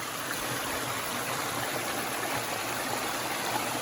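Water pours steadily over a small wooden weir, dropping about three inches into a duck pond, a dense continuous rushing and splashing that stays even and close throughout, with no voices.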